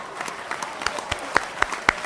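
A small live studio audience claps and applauds, a sparse patter of individual hand claps with a few louder smacks, close by and without talking.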